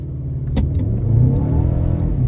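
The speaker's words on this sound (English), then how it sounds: "I'm gonna put it in sports, and I'm going to do a launch test" A Mercedes A250 AMG Line in sport mode accelerates hard from a standstill during a launch test, its engine note rising steadily and loud, with a sharp click near the start.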